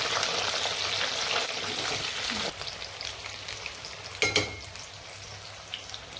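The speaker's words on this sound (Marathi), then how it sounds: "आपल्याला तळून घेणार आहे वांगे पाच मिनटात रेडी होते" Eggplant frying in hot oil, a loud, close, steady sizzle that softens partway through, with a few sharp splashy crackles near the end.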